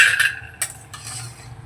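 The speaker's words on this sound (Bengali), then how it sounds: "বড়িগুলোকে আগে ভেজে তুলে নেব, একটু লাল লাল করে বড়িগুলোকে ভেজে তুলে নেব" Fried lentil dumplings being lifted out of hot oil in a wok, with sharp metal spatula scrapes and clinks against the pan over a low background hum and faint sizzle.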